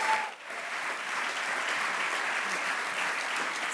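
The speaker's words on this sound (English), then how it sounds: "Let's give them another big round of applause." Audience at the CityLab DC 2019 event applauds an arts group, a dense, sustained wash of clapping from a large crowd that carries on steadily after a brief dip near the start.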